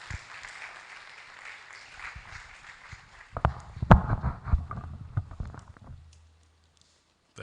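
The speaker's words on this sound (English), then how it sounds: "Let's welcome him with a round of applause." An audience at a university research awards and grants ceremony claps to welcome a speaker: faint room hiss, then a burst of scattered, uneven claps that thin out and stop, leaving near silence.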